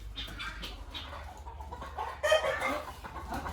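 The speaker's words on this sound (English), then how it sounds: "That is a rooster." Rooster clucking on a farm, short soft calls rising over steady low rumble, with a louder burst of clucks near the end; fairly faint and distant-sounding.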